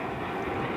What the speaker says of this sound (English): China Airlines cargo going to San Francisco, 747-400.